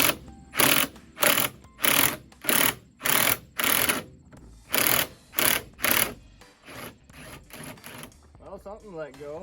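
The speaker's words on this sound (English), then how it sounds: "if I use the impact gun and if I just brap brap brap brap off and on" Pneumatic impact gun hammering at a front strut lock nut on a third-generation Camaro, fired in about a dozen short, loud rattling bursts with brief pauses, the last few quicker and weaker, ending in a softer clatter.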